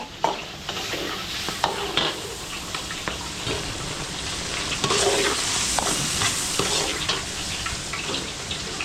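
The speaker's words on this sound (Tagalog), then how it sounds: "Yung bigisa na po yung dila ng baka" Beef tongue sautés with garlic and onion in a pan, giving a loud, continuous sizzle and frying hiss with intermittent stirring clatter throughout.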